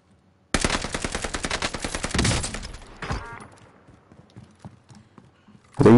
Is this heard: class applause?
no